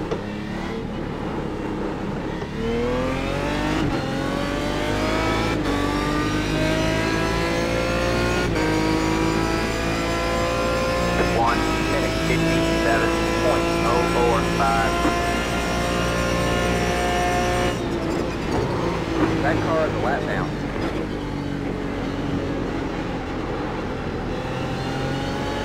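Race cars lapping Suzuka in the iRacing sim, a dense pack of engines whining and revving continuously at high volume, with gear-change dips, passing cars and occasional tire squeal, no talk.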